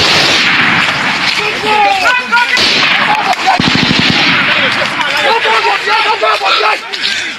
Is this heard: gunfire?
yes